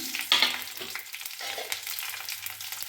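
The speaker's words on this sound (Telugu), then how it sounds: "ఇవి ఫ్రై చేసుకోవాలి" Garlic, green chillies, dry red chillies and tempering spices frying in a few tablespoons of oil, a brief bright sizzle burst at the start that settles into a softer, intermittent crackle and stir.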